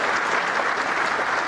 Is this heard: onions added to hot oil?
no